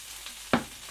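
Bacon frying in a pan gives a quiet, brief sizzle with one sharp crackle or pop midway through.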